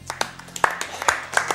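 Scattered hand claps from a small audience after a Prince of Persia: The Sands of Time speedrun, a few sharp, uneven claps over about a second and a half, fairly faint.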